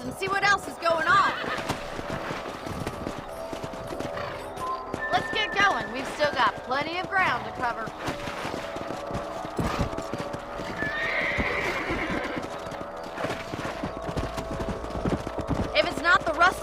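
Horses gallop with rapid clip-clop hooves and neigh in the Red Dead Redemption video game, under a voice and game music.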